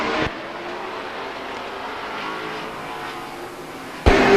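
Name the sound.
late model race cars racing at Stockton 99 Speedway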